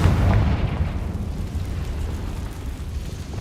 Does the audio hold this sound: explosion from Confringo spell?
yes